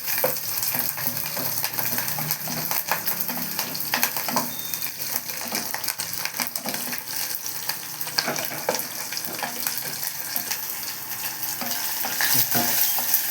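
Egg curry with green chillies and curry leaves is stirred in a frying pan, making a dense, continuous sizzle with a spatula scraping and tapping close by, and no voices.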